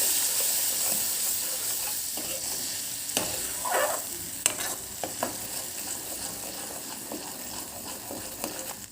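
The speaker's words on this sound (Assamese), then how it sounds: "এতিয়া ভালদৰে লৰাই দিম" Stirring tomato paste sizzling in a pan, with scraping utensil strokes over a steady frying hiss; no talking.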